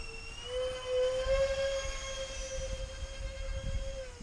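An RC model Airbus A380 with 1500 mm wingspan, electric motors on a 4S LiPo battery, flies with a sustained whining drone whose pitch rises slightly, over steady wind rumble, fairly close and alone.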